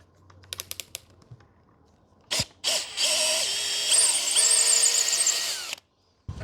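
Cordless drill, a Makita DHP490 or Hanabi LJ2005, boring with a 1-inch flat spade bit: a few clicks, a brief whir, then a steady loud whining drill run of about three seconds that stops abruptly.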